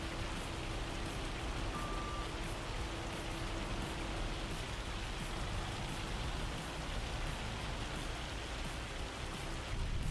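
Steady hail falling in the Farming Simulator 25 game, a dense, loud, continuous patter that fills the whole stretch evenly with no talk over it.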